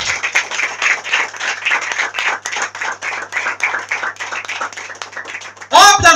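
Congregation applauding during an evangelical church service, rhythmic hand clapping from many people under a steady hum, ending with a sudden louder burst of voices.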